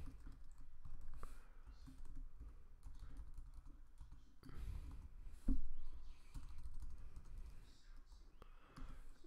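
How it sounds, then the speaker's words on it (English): Quiet computer keyboard clicking as code is typed, a soft, irregular patter of keystrokes in a muted room, with a few louder taps and some faint background noise. "Let me just type this out for you guys."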